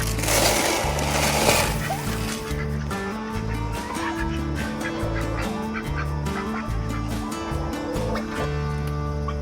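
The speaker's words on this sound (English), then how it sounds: "Ducks." Ducks and geese honk and quack steadily, close and loud, with splashing water in the first couple of seconds and faint voices under the din throughout.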